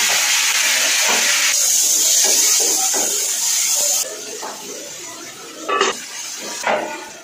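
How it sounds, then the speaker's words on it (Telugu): Chopped tomato and garlic frying in a kadai give a steady loud sizzle and hiss that softens partway through, with a few brief clinks and stirring sounds near the end. "తరిగిన ఒక టమాటా వేసి వేగనివ్వాలి"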